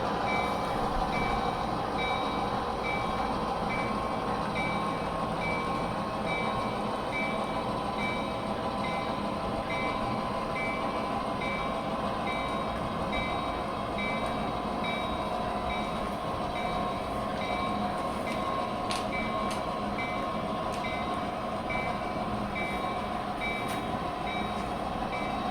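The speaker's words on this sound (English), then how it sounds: "the run into Shasta Beverage is a little bit longer and will allow for the locomotive and all" Model railroad locomotive pushing boxcars across a layout into a beverage industry siding, giving a steady low running hum with faint high electronic tones and a few small clicks near the end.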